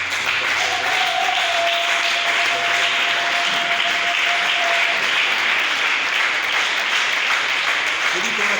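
A church congregation in worship applauding and cheering for God, a loud, sustained wash of clapping and crowd acclaim that fills the space throughout, with a voice speaking over it.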